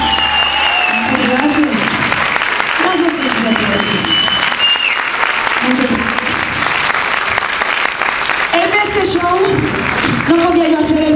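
Sustained audience applause fills the hall at a Mexican stage show, steady and loud throughout with scattered cheers and voices mixed in.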